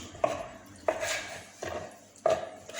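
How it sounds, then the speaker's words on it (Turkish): Four sharp knife chops strike a cutting board at a slow, uneven pace, each followed by a brief scraping rustle, as cooked meat from the bone is cut into small pieces for trotter soup. "kemiğimizin üzerinde çıkan etlerimizi şöyle küçük küçük doğruyoruz"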